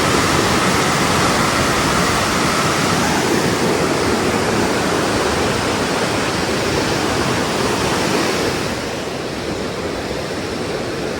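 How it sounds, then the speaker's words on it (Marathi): A swollen monsoon river pours under a bridge near Nirul village, a loud, steady, close rush of water that holds unbroken for about nine seconds before easing slightly at the end. "ह्या ब्रिज खालून नदीचा जो प्रवाह आहे तर तो ओसांडून वाहतोय"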